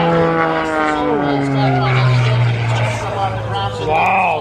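An H540 aerobatic airplane performing at an airshow, its propeller engine droning loudly with rising and falling pitch under excited talk.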